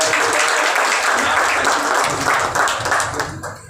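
Audience at a Valmiki Tigers cricket team gathering applauds a woman guest, with dense, steady clapping from a crowd filling the whole stretch and fading slightly at the end.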